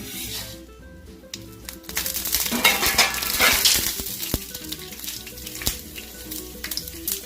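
Mustard and fenugreek seeds crackle and sizzle in hot oil, with scattered sharp pops and the clink of a utensil stirring in the pan.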